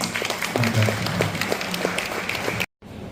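An audience claps at a school inauguration ceremony, a dense, moderately loud patter of applause that cuts off abruptly near the end.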